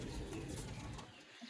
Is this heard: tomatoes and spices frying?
no